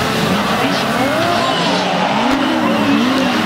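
Banger racing cars at Smeatharpe Stadium during an Autospeed World Championship event skid and scrape in a loud, continuous racket of engines and squealing tyres, with a commentator talking over it.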